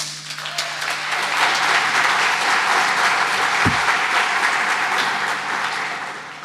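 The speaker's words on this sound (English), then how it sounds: "Big round of applause, please." An audience claps steadily at the start of a talk on the history of visual effects in film, a dense, sustained round of applause that fades slightly at the end.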